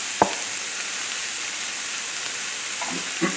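Butter and extra virgin olive oil sizzle steadily in a frying pan, a close, even hiss, with a sharp clatter near the start and a few soft knocks toward the end.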